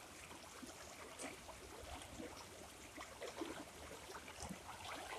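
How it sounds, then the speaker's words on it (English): A small creek flows steadily beside a quiet meditation spot, a soft continuous wash of trickling water that stays even and close throughout, with no voices. "the sound of this creek"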